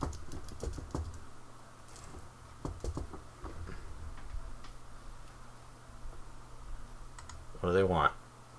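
Fingers tap on a computer keyboard, bursts of quick close clicks scattered with pauses, ending in a brief louder flurry; a voice speaks faintly in places.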